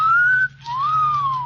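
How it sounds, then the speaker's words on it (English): A man gives a clear two-part wolf whistle in an old-time radio drama, a rising note then a longer swooping one, loud and close over a faint hum. "you should have made the whistle shorter"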